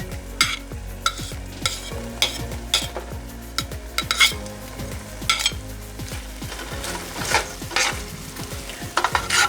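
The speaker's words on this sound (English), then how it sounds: "So what we'll start off with is our onions and our garlic." Onions and garlic frying in a pan for chicken fajitas, with steady sizzling and repeated scraping and stirring strokes of a utensil against the pan, close and continuous, no talking.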